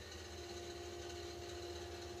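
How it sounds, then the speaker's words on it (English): Engine 2 of a propeller aircraft spins up in a flight simulator game, a faint, steady whine over a low hum that holds evenly throughout, with no voices. "Engine 2 starter engaged."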